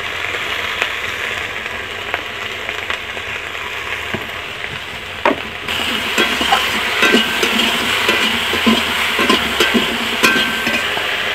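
Small hilsa fish curry stirred with salt in a pan, a steady loud sizzle with scattered scraping and clicking that grows busier and louder partway through.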